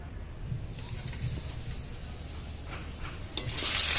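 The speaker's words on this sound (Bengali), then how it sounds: "তারপর এখানে তেজপাতা দিয়ে জিরে ফোড়ন দিয়ে দিলাম, দিয়ে একটু নাড়াচাড়া করে নিচ্ছি।" Dried chillies, bay leaves and cumin seeds sizzle and crackle in hot oil in a wok, a soft steady frying hiss with scattered pops that swells louder at the end.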